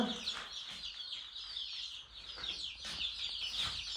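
Chickens cluck and small chicks peep continuously, a busy high-pitched chatter of several birds at moderate distance.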